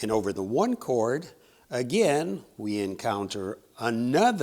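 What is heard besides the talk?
No everyday noise stands out behind the speech.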